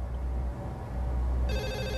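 A phone rings during a crime drama, with a steady ringing tone that starts partway through over a low background hum, and nobody talks.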